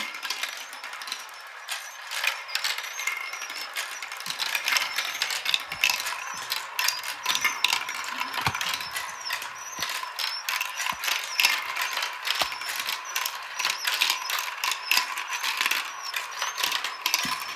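A plastic marble run with five elevators lifting marbles, full of busy mechanical clicking, ratcheting gear noise and rapid little marble clacks, continuous and close, with a faint steady motor hum underneath.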